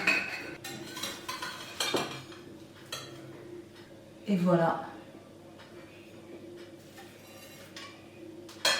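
A knife cuts through a freshly baked apple tarte tatin with soft crunches and clinks of cutlery against the dish, close and quiet, with a brief spoken remark over it.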